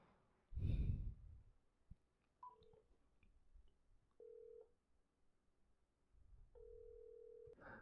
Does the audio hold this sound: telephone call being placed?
yes